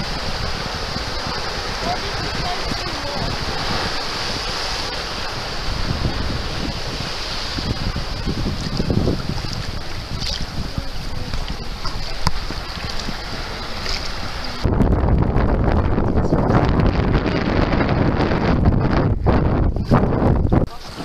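Wind rushes steadily past a double sea kayak under sail near Port Arthur, with water sloshing beneath, then becomes abruptly louder and rougher as gusts buffet the microphone in the final stretch.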